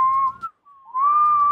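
A person whistles a very high, piercing steady note, breaking briefly in the middle before resuming with a slight upward glide, close and loud with no talk over it.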